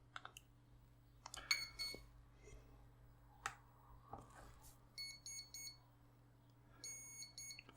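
Power-up calibration beeps from a drone wing's electronic speed controllers: a few sharp high-pitched tones and short rapid beep trains sound between scattered clicks and handling noise, faint and close.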